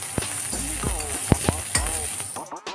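Chili, chopped garlic and onion sizzle and fry in a pan, with a steady crackling hiss throughout and several sharp stirring clacks of a utensil against the pan.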